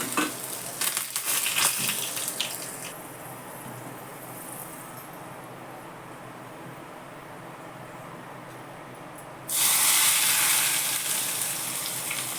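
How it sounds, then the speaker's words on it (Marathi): Mustard seeds, cumin and curry leaves sizzle in hot oil for a tempering poured over raw mango chutney. A steady hissing crackle runs throughout and swells into a louder, brighter burst near the end. "मोहरी घातली जिरं थोडा कढीपत्ता थोडीशी कोथिंबीर"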